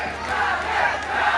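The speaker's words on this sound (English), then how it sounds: "The crowd is up in arms out here." A boxing arena crowd roars continuously and loudly during a World Series of Boxing quarter-final bout, a dense wash of shouting voices with no break.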